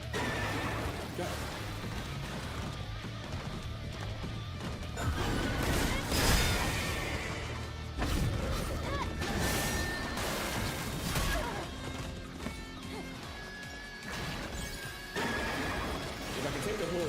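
Horse whinnies and neighs ring out in a video game amid hoofbeats, crashes and swooshing combat hits, with a voice talking over much of the action.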